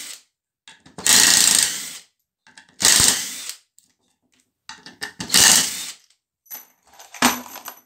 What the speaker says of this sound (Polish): Mam te cztery, że tak powiem, do zdjęcia wkręcone, co je wykręcimy teraz.